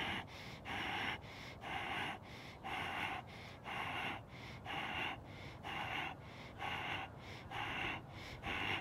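Rhythmic breathing in and out during a seated dynamic tension exercise, about nine steady breath cycles roughly one per second, close and clear with no talking.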